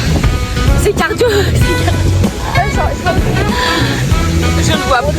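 Sea waves washing around swimmers off Majorca, a loud continuous churn of splashing water with people talking and calling out over it close by.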